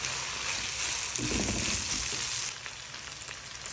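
Dried fish sautéing in a pan for palabok: a steady, close sizzle with a brief burst of louder stirring and frying noise partway through, then easing slightly.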